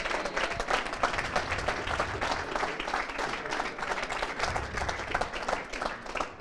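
Sustained audience applause at the IPA World Championship Final 2024, dense steady clapping from a large crowd filling the whole stretch at an even level.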